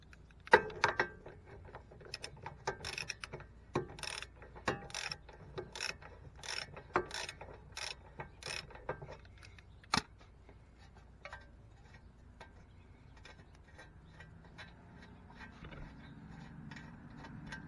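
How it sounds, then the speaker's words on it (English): A socket ratchet clicks in quick bursts, close and crisp, as a 17mm socket loosens a castle nut on a car's outer tie rod, then quieter handling noises follow. "we're going to take a 17mm socket and we're going to loosen up this castle nut and then flip it over"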